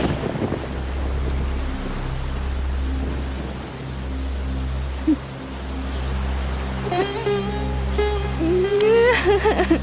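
Heavy rain with a thunderstorm: a constant wash of rainfall under deep, pulsing rumbles of thunder, and a voice briefly rising near the end.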